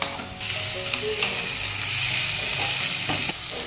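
Onion frying in a pan for pav bhaji gives a steady, close sizzle that runs the whole time, with a few soft stirring scrapes rising above it and no voices.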